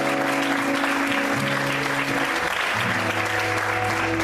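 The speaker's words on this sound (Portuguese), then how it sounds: "Mais fortes palmas." A church congregation claps loudly and continuously during a Portuguese-language sermon, while sustained organ or keyboard tones hold underneath the dense applause.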